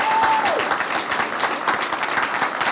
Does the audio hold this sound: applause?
yes